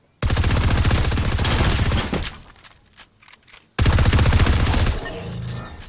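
Rapid Fire SMG in Fortnite firing two long, loud, continuous bursts separated by a short lull holding a few scattered impact sounds.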